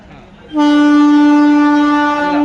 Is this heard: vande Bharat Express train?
yes